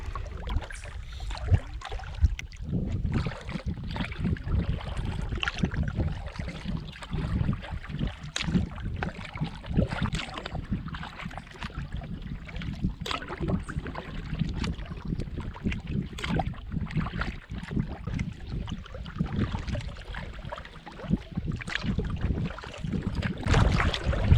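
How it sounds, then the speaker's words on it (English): Hornbeck canoe paddled across a lake, with steady close water sloshing and paddle splashes under constant wind rumble and occasional knocks against the hull. "It's not easy paddling. I'm going to have to push kind of hard to get it moving."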